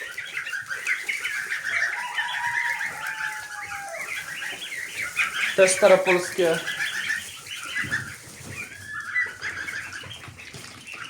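Farm ducks, including French and old Polish breeds, quack and chatter at close range in irregular bursts, with other fowl calls mixed in and someone talking over them.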